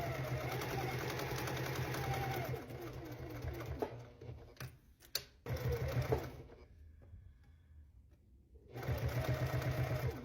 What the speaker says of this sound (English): so we always backstitch those corners there. I'm just going to go back around for some extra strength.